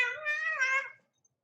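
A pet cat gives one clear, close meow that rises and then falls away, followed by quiet.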